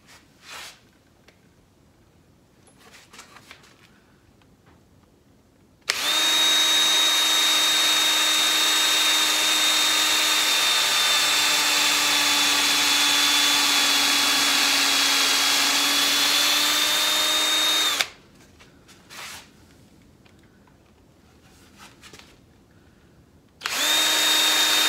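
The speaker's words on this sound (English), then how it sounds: "So I put a 7/64 inch bit that'll be the pilot hole for the" A power drill fitted with a 7/64 inch bit bores a pilot hole in elm wood, a loud steady high whine running for about twelve seconds between short quiet gaps, then starting again at the end.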